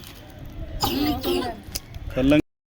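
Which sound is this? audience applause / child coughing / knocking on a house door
child coughing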